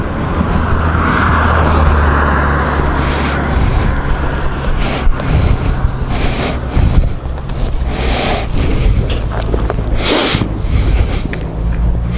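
A GS motorcycle passes nearby on the Passo Mendola mountain road, rising briefly above a steady engine drone and rushing wind noise, with no talking.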